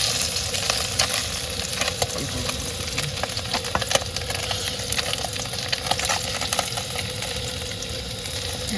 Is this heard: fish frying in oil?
yes